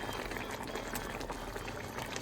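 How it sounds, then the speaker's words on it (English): A pot of egusi soup with dry fish bubbles at a steady rolling boil, close and continuous, with no voices. "Allow the pot to boil."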